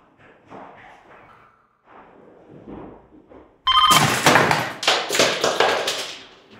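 A telephone rings loudly and close in a delivery workplace, its bright bell bursts starting midway and repeating in quick pulses after a stretch of quiet movement and soft thumps.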